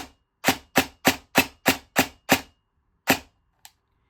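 An airsoft gun with a Jefftron Leviathan V2 optical unit fires in semi-auto, giving seven sharp single shots in an even rhythm, a pause, one more shot and a faint click, loud and close with no talk.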